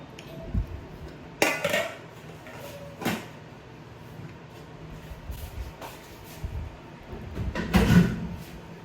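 Metal clanks and scrapes of a cooking pot being handled and washed before cooking rice, with a few sharp knocks and running-water hiss in between.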